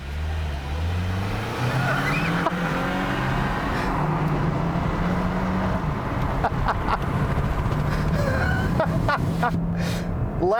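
A 2022 Hyundai Tucson hybrid SUV pulls away in a stoplight race against the gas model, engine note climbing through rising tones over continuous road and wind rumble, with rattles and bumps toward the end; no talk.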